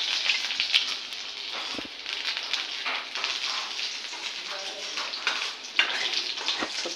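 Onions frying in a pan give a steady, broad sizzling hiss with small crackles and pops, close and continuous, a brief clatter near the start and no speech over it.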